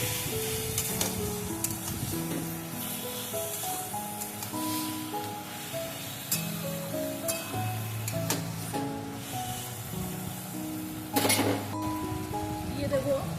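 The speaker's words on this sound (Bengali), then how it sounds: "ভালো করে আমি একটু নাড়াচাড়া করে দেব।" Hilsa fish head and taro leaves sizzling and being stirred in a frying pan, a steady crackle with scrapes and stirring knocks throughout, with music playing underneath.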